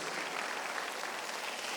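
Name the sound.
congregation clapping in church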